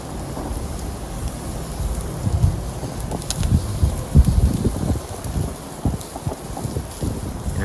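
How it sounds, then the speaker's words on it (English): Gusty wind buffeting the microphone at an outdoor gas grill, rumbling low and uneven with irregular rushes and thumps rising and falling, with no talk. "And that wind's really taking control when the top is open."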